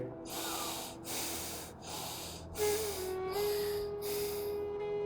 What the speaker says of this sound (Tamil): கண்களை மூடி மெதுவாக மூச்சை உள்ளெழுத்து மெதுவாக மூச்சை விடுங்க ஒரு மூன்று முறை